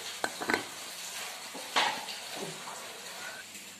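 Duck blood mixture being stir-fried in a pan for Vietnamese tiết canh preparation, with a few sharp utensil clanks and scrapes against the pan over a low, steady background hiss, close and fairly quiet.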